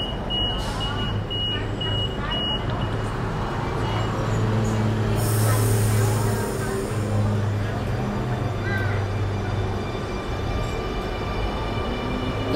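A Sydney Trains T2 City Circle via Granville service pulls away, with steady low rumbling of wheels and motors, a rising hum, and brief high squeals and buzzes near the start, loud and close throughout.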